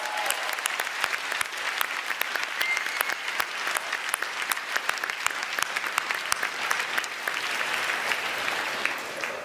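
A large debate audience in a hall gives sustained applause, a steady wash of many hands clapping at even loudness throughout with no voices above it.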